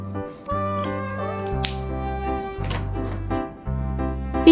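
A cartoonish cat meow in a children's alphabet learning song, set over steady background music with bouncy tones; the meow is short and bright, with the music continuing around it.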